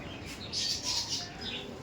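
Several high, squeaky chirps from young Madras pigeons, a brief cluster of calls over a soft background hiss.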